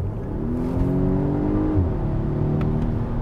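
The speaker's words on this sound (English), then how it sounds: "the boost is still spooling into the supercharger" A 2020 Volvo V60 T8 Polestar Engineered hybrid with turbocharger and supercharger accelerates from inside the cabin, a steady droning engine whose pitch climbs then dips slightly, loud and continuous.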